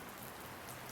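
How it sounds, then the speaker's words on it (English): Rain falling outdoors, heard from under a shelter as a steady, dense hiss of drops on surfaces, moderately loud and unbroken, with no voices. "As you can see, it's raining out."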